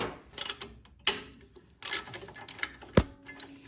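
Star-bit bolts are ratcheted off a snowblower left forgotten in a barn, with irregular clicking ratchet bursts and metallic knocks at close range, plus one sharp clank near the end.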